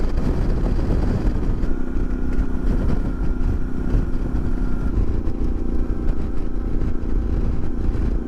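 Motorcycle riding across the flat, fertile Argentine pampa on a long straight road, the engine droning steadily and loudly throughout with heavy wind rush and no talk.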